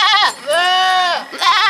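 An Etawa crossbreed (peranakan Etawa) goat of the Kali Pusing line, kept by breeders in Lampung Timur, gives loud, close, quavering bleats: a long wavering cry in the middle, set between two shorter ones, with no voices.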